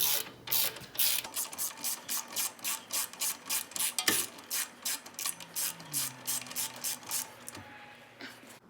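A hand ratchet snugs the rear wheel bearing bolts on a 2012–2020 Dodge Caravan, giving a close, rhythmic run of rapid clicking strokes with brief pauses between pulls.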